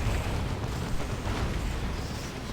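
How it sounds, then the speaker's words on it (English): A melta bomb detonates on a Sentinel walker in the Dawn of War 2: Retribution strategy game, a dense, rumbling low-end blast roar that holds steadily for a couple of seconds amid battle noise. "Melter bomb goes off on the Sentinel, which snares it"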